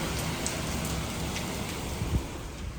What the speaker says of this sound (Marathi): किती पाऊस पडला.